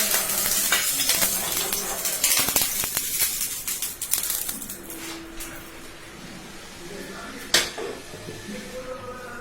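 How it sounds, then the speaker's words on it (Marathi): Oil hisses in a hot pan for an eggless omelette, with loud crackling sizzle and clattering pops early on that settle into a softer, steady fry with one sharp clink near the end. "पॅन आपला गरम झालेला आहे. त्याच्यामध्ये मी 1 चमचा तेल टाकते."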